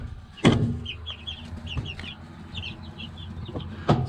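Two-week-old baby chicks in a brooder give a scattered stream of small high peeps, soft and fairly close, broken by a few sharp knocks and bumps, with no one speaking.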